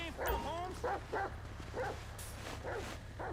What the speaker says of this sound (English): Don't worry, they're fake dogs